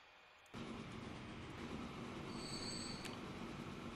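Trains run with a steady rumble and wheel squeal in the Transport Fever simulation game, a dense continuous rail noise that starts abruptly after a brief quieter moment.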